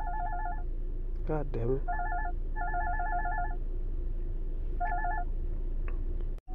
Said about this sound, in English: I was rudely interrupted by a phone call